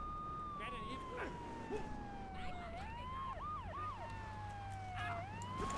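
A police siren in the video game GTA 3 wails up and down with quick yelping sweeps, faint and mixed with game sounds and low background noise, under occasional talking.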